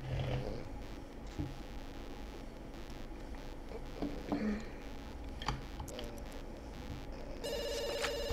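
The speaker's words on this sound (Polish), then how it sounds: "Adaś, odbierz telefon. Może ktoś ważny dzwoni." A telephone rings in The Sims 2 video game, its repeated electronic bell tones standing out clearly over soft game background ambience late in the clip, with no one speaking.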